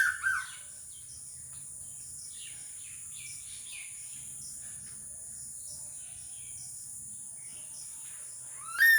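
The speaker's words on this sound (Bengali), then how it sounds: "দুটো একসঙ্গে বসে ডাকাডাকি করে।" Two small birds call together, with soft chirps and twitters scattered throughout over a steady high insect-like hiss, and sharper, louder calls right at the start and end.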